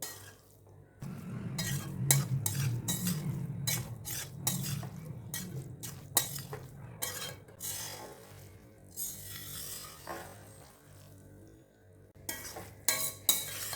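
Cooked rice being gently folded and stirred in a kadai for tomato rice, with soft repeated scraping and clinking of a spoon against the pan over a low sizzle, fairly close and steady, with no talking.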